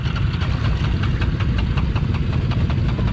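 An engine idling in neutral on a Honda ATV, a rough, knocking rumble with a fast, even pulse that runs steadily and fairly loud throughout, with no speech.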